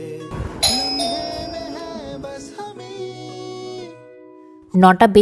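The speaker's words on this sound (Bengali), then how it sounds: "বেল বেজে উঠেছে" A home doorbell plays a bright electronic chime melody of several ringing tones, which fade out before a few brief louder clatters at the end.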